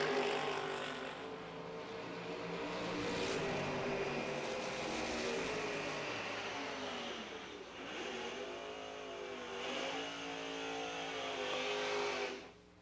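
Drag race cars launching side by side down the strip in a high-dollar race, a loud sustained engine roar that builds, shifts pitch and fades as they pass, no talking.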